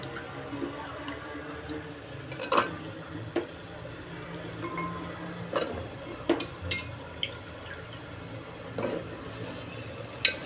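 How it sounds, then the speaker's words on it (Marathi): Chopped moringa drumsticks being sautéed in masala in a pan: soft sizzling under scattered scrapes and clinks of a spatula, intermittent and fairly close. "शेवगा पण या मसाल्यात चांगला परतवायचा"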